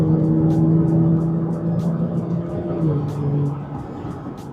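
An Audi S4 accelerates at night, its engine note heard from inside the cabin as a steady, rising drone with faint clicks over it and no talk.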